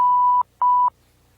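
Two loud, steady tones, each about half a second long with a short gap between, blot out speech in a guitar lesson, then silence follows.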